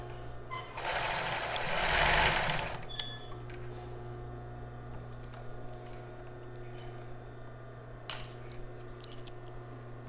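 A sewing machine runs in a short, loud burst of about two seconds while stitching a child's bra, then falls quiet apart from faint ticks over a steady low hum.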